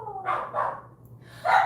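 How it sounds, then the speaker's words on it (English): A dog barks a few times at moderate distance, two close yips followed by a louder bark after a short pause, alone with no talk. "They're good guard dogs."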